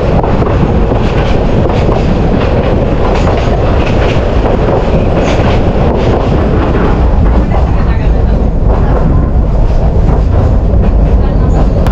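A local train between Santahar and Nasratpur in Bangladesh runs at speed, heard from a window seat as a loud, constant roar of wheels and rushing wind with rhythmic rattling clacks throughout.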